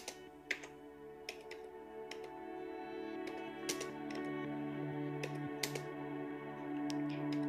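Keys on a laptop keyboard are tapped in short irregular bursts of quick clicks at close range, over a faint steady hum, with no talking.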